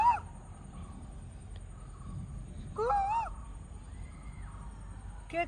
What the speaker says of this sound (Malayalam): ആരോ കൂവുന്നുണ്ട്.